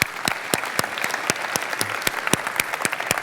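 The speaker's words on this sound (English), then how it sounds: "Applause for you for all the voting." Sparse, crisp applause at an awards ceremony, a handful of separate claps spaced at a steady rhythm, close and moderately loud, with no talking over it.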